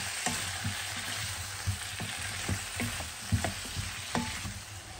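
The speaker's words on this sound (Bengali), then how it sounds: "পেঁয়াজের সাথে একসাথে আমি ফুলকপিটা ভাজবো" Cauliflower and onion fry in a pan with a soft, even sizzle, broken by regular scraping stirs roughly every half second, close and fairly quiet, with no talking.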